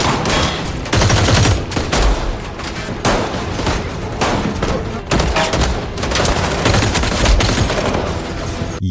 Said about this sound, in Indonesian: pasukan Jung-do datang dan terjadi baku tembak sengit di lokasi itu